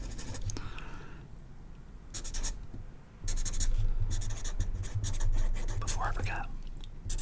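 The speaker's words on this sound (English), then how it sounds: "let me write this down first" A pen scratches across paper in short, close bursts of writing, separated by pauses, with a soft whisper-like hiss and low room rumble underneath.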